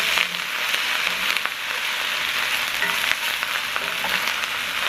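Bibimbap with egg sizzling in a hot skillet, a loud, steady crackling fry that holds evenly for several seconds with no talking.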